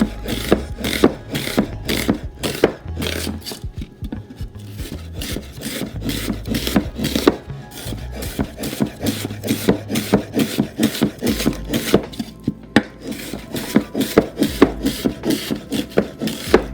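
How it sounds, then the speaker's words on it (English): A knife slicing an onion into crescent wedges for a village-style Greek salad, a quick steady series of close crisp cuts and knocks on a wooden board, with brief pauses between runs. "Just cut it in half and rainbow cut that onion."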